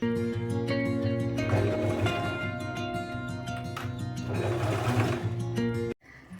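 Sewing machine stitching the fabric lining of a knitted bag, a steady continuous mechanical whir running for about six seconds, close and loud, stopping abruptly near the end.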